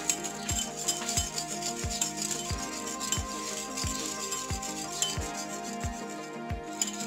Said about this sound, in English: pwede nang mag-start mag-mix using a whisk.